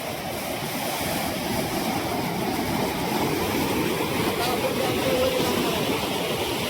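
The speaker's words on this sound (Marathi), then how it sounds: "किती स्पीडला पाणी आहे बाई" Water released from Dhanegaon Dam near Latur rushes fast beneath a bridge, a loud, steady roar heard close by without pause.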